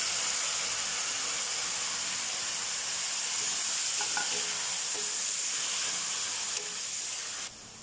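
Vegetables with garlic, carrot and cabbage stir-fry in a hot pan for a panada filling, a steady loud sizzle and hiss with faint stirring scrapes, easing slightly near the end.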